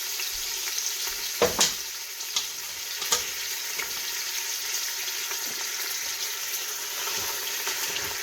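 Steady sizzling of chicken frying in a pot, with a few scattered clinks and stirring knocks over the constant crackle.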